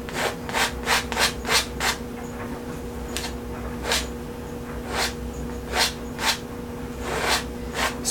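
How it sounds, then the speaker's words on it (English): A painting knife scrapes paint off a canvas where a mountain is painted, in a series of short, rhythmic rasping strokes, close and fairly loud, with no talking. "Scrape off as much of the paint in the mountain as possible."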